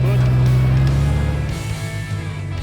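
A short-wheelbase Nissan Patrol GU on 40-inch tyres drones with a steady, low, close engine hum while rock crawling, and a voice talks over it.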